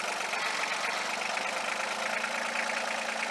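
A tractor engine runs in a continuous, even drone while working on a sloped hillside, heard close and alone.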